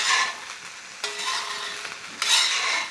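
Egg fried rice with vegetables and sauce is tossed and stirred in a hot pan over a high flame, giving a close, bright sizzle that comes in swells with each stir, and no voices are heard.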